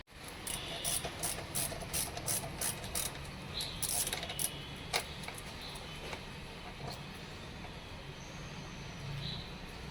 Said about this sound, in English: let's start with removing these four bolts at the top of the handle first